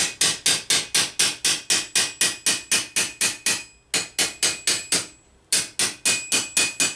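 Hammer blows on a metal gothic gauntlet backplate, raising a divot: sharp, ringing metallic strikes in a fast, steady rhythm, about two dozen in all, close up and broken by two brief pauses.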